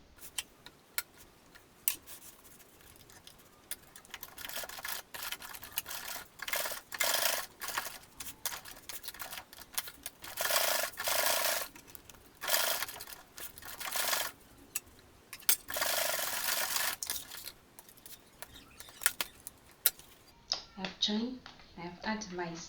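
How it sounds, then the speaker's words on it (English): A sewing machine stitching the sides of a bag lining, a steady rapid mechanical ticking in repeated runs of several seconds with short pauses, fairly quiet and close, with brief talk at the end. "I will sew on the two sides, from one side to the bottom to the other side"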